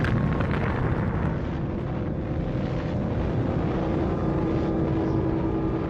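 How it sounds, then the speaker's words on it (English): The first atomic bomb detonates, a device about five feet across with a yield of about 20,000 tons of TNT, heard as a loud, continuous, dense roaring rumble that stays steady throughout with no voices. "the first atomic bomb was detonated"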